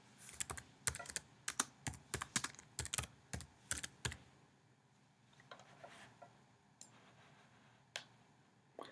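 Typing on a computer keyboard while formatting text, a quick run of sharp close key clicks for about four seconds, then scattered single taps against quiet room tone.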